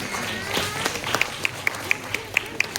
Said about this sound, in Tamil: ஒரு கைத்தட்டல் கொடுத்துடலாம்.